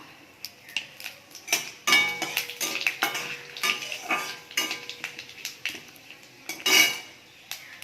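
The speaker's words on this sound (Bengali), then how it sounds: "এবারে এই তেলের মধ্যে তেজপাতা দেব, শুকনো লঙ্কা ফোড়ন দেব আর 5 ফোড়ন দেব।" Bay leaf, dried red chili and panch phoron dropped into hot oil for tempering, heard as a faint sizzle under repeated clinks and scrapes of a utensil against the pan, with louder clattering bursts near the end.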